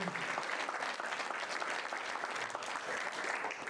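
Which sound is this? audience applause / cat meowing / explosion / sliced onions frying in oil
audience applause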